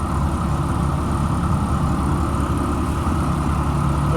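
A 2004 Blue Bird All American 72-passenger school bus engine idles at a steady, low, continuous rumble throughout, close by, with no voices.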